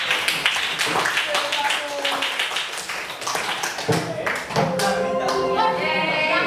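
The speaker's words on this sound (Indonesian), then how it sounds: "Mari kita beri tepuk tangan." A classroom gives applause for a student group after their presentation, dense scattered clapping from many hands mixed with children's voices, rising toward the end.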